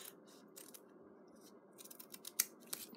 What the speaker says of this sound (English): And then cut this into half.